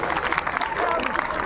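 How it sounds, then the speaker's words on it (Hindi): Applause for schoolchildren being honoured at a school function, a dense wash of clapping from a crowd that fills the whole short stretch at an even level. "जोरदार तालियां होनी चाहिए बच्चों के लिए"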